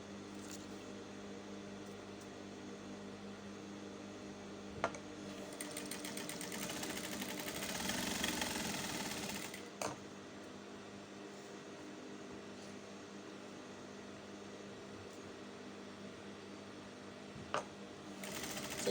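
A sewing machine stitches an elastic-waisted shift dress, running as a quiet continuous whir that swells briefly mid-run, with a few sharp clicks and no voices.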